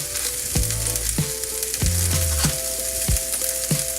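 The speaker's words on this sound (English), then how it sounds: "See how the pepper is getting cooked there?" Peppers and other vegetables sizzle steadily in a hot frying pan while salsa and breakfast tacos are prepared, with a loud continuous crackle broken by several clattering stirs.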